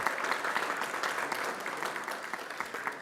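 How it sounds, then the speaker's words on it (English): Steady applause from a school board meeting audience honoring students and their parents, a dense even wash of many hands clapping throughout at moderate level. "Let's give them another round of applause and their parents as well for the support."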